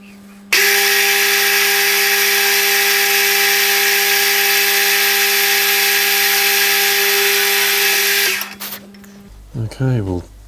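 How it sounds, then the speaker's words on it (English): A power drill bores a hole in a metal part for a hot air engine, running as a steady loud whine for several seconds before stopping, followed by brief talking. "so that's where we've got to drill the next hole."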